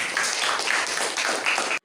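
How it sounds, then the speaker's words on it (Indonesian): A classroom of students claps for a classmate, a short burst of dense, close applause that holds steady and then stops abruptly. "Oke, tepuk tangan untuk Zara."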